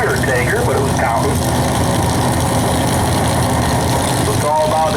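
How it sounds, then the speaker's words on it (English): A 523 cubic inch Chevrolet drag racing engine in a nostalgia pro stock car idles loud and constant with a deep, lumpy rumble at the drag strip. Announcer-style voices are heard over the engine. "523 cubic inch Chevrolet engine for the Undertaker"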